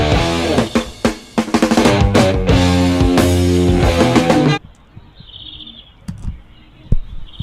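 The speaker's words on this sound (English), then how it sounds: "you hear these birds?" Loud music plays, then stops abruptly, leaving faint, high bird chirps scattered over quiet background noise.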